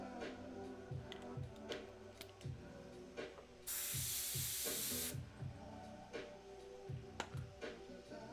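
An airbrush lets out a single short burst of hissing paint spray among soft, scattered mechanical clicks, all quiet and close.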